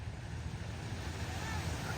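Sea waves wash steadily onto a beach, a continuous broadband roar with wind buffeting the microphone, moderately loud and unbroken throughout.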